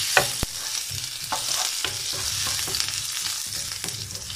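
Ginger frying in a pan while being stirred, a close continuous sizzle punctuated by repeated rhythmic scrapes and knocks of the spatula.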